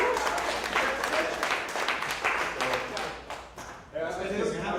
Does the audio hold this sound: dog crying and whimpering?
no